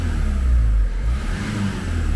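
A Renault 1.5 dCi diesel engine is revved, its low rumble swelling to a rough peak and then settling back to a steady idle-like drone, close and fairly loud.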